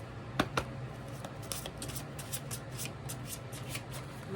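Close, crisp shuffling of a tarot deck: a couple of sharp card snaps, then a run of rapid, evenly spaced riffles and flicks, with no voices.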